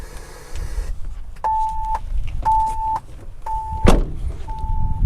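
A series of short, evenly spaced electronic beeps from a Kicker Key 200.4 amplifier sounds inside a Ford Bronco, with a thud and some low rumbling between tones.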